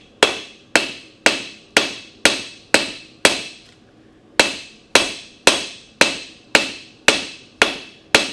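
A blacksmith's hammer forges a bevel into hot steel in steady ringing blows, fourteen sharp metallic strikes in quick rhythm with a brief pause midway, close and loud with no talk.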